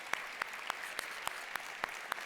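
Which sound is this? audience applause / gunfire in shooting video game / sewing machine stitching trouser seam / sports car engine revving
audience applause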